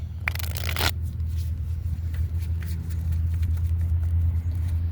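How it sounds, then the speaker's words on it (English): A brisk burst of tarot cards being shuffled outdoors, a crisp riffling flutter lasting under a second, followed by faint scattered card handling over a steady low wind and traffic-like rumble. "I'll go ahead and shuffle them 3 times."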